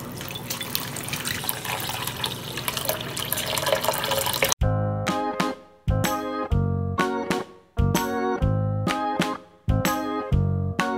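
Water runs and splashes as it is poured into a container for baby turtles found in a backyard, a steady broadband rush that turns into intermittent bursts of pouring with short pauses between them, close and fairly loud.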